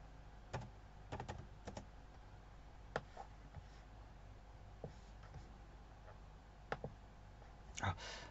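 Numbers typed on a computer keyboard during a physics problem, scattered quiet key clicks arriving singly and in quick bursts against a low background hum.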